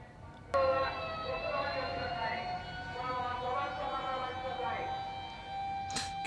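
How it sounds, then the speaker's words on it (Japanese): A fire engine siren wails with a steady, harmonically rich tone, moderately distant and sustained, its pitch wavering slightly as it passes, with a short sharp knock at the start and near the end. "これは消防車か。"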